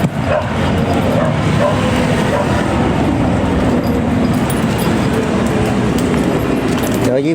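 Dogs bark around a Thai village, a dense, loud, continuous chorus over steady background noise, with a voice briefly heard.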